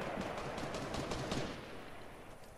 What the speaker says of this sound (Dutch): Waar word je geschoten?